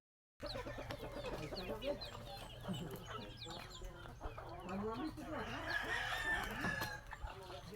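A rooster crows at a rural village hut among other clucking chickens, heard at a moderate distance and fairly faint, with people talking nearby.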